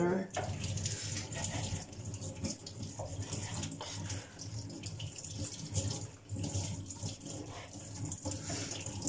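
Tap water runs steadily into a basin while dishes or hands are washed, with a continuous splashing rush close by and a voice faintly underneath.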